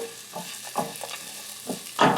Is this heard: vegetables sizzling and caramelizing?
yes